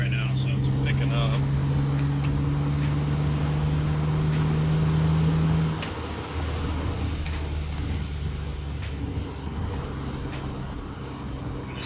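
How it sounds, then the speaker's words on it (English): Honda CR-V (RD1) with J2 K-series swap, all-wheel drive and valved exhaust, floored uphill from 50 in fifth gear; steady loud engine drone that rises in pitch, then shifts character as the load changes midway. "starting at 50 in 5th gear. Flooring it right now, so it's picking up"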